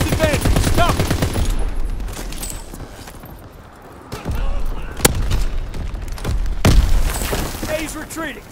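Call of Duty WWII gunfire: bursts of rifle and machine-gun shots with heavy thumps and a sharp crack near the middle, mixed with shouted voices at the start and in the game's battle din.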